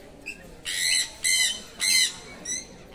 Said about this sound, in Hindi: सन पैराकिट